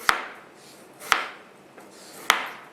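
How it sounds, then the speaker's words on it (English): Knife cutting thin slices of Roma tomatoes on a board, three sharp, crisp chops spaced about a second apart, close and clear with quiet pauses between. "I'm going to thinly slice the Roma tomatoes"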